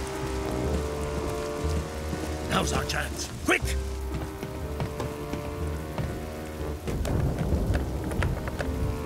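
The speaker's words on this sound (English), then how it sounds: "it's raining again" Steady rain patters on surfaces with a rumble of thunder, while voices speak urgently over the downpour.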